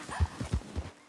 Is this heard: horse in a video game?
yes